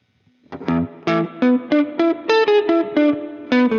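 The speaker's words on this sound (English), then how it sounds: "The Springamabob has convolution models of 3 different spring reverb tanks." Electric guitar played live through a Springamabob spring reverb plugin placed after the amp, a series of about ten distorted chords and notes picked one after another in a steady rhythm, each ringing out with a splashy spring-tank tail.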